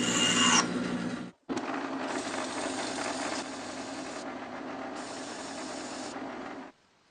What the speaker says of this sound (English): I have to sand down that dowel a little bit to make it fit better